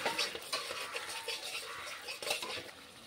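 Ginger and garlic paste fry in a pan for doi katla: a quiet, steady sizzle broken by light clinks and scrapes of a spatula or spoon against the metal.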